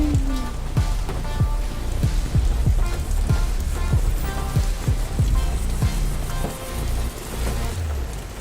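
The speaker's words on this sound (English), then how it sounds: "Wow, it is fucking pouring." Heavy rain pours steadily in a video game storm, a dense wash of drops with mixed-in hail, punctuated by a regular series of low thuds, loud and close throughout.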